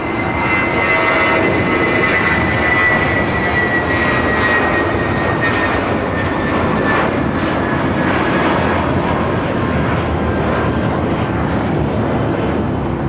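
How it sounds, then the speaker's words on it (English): A Spirit Airlines Airbus A320 takes off from LAX, its engines producing a loud, sustained jet roar with a faint whining tone, steady and close throughout, with no voices. "This is Spirit Airlines 1043 taking off to San Antonio on an A320."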